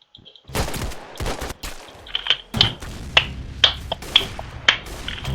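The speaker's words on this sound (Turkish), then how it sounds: "AK çok hızlı vurdu" Video game AK-47 gunfire in Arsenal, a series of sharp, evenly spaced shots with bright metallic cracks, preceded by a few quick clicks and soft handling thuds, fairly close and loud.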